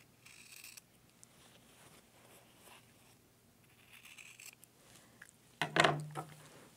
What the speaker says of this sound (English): So I'm just going to use my scissors to cut across